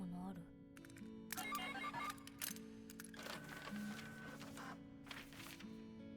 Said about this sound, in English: Oh, it's a built-in printer.